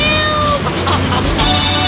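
A cat meows in a radio advert in Grand Theft Auto III, a clear, loud electronic-sounding meow over steady background music.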